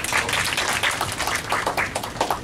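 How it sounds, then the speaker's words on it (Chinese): An audience at a green-energy workshop on citizen power plants claps together, a fairly even patter of many hands sustained for a couple of seconds at moderate loudness. "我们热烈掌声"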